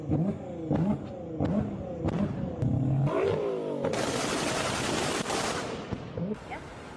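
A Nissan GT-R engine revs in quick rising bursts with popping, crackling exhaust, then swells into a loud roaring rush with heavy crackle, close and dominant throughout.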